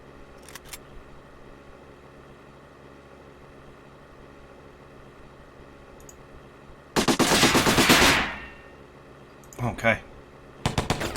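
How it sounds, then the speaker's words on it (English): Machine gun fire in the video game Silent Storm: a long, loud rapid burst, then shorter bursts near the end, after a quiet stretch with a faint early rattle and someone briefly speaking. "he's got an MG, so... or an SMG"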